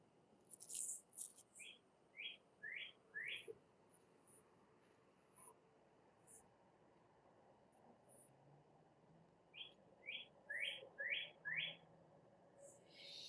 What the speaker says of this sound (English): Now the birds are coming out.